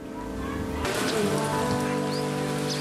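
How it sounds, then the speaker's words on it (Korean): Sudden afternoon rain begins falling in Ethiopia, a steady close patter of drops on a surface that swells abruptly after a quiet start and continues evenly, with a low hum underneath and no voices. "오후가 되면서 갑자기 비가 내리기 시작했습니다."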